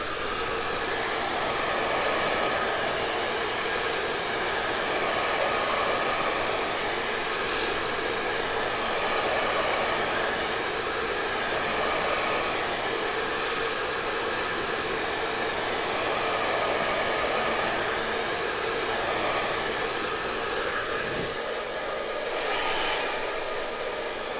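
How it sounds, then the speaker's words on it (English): A hair dryer blows steadily with a loud, constant whooshing roar that stays close throughout. "let me blow dry it just for another minute or so."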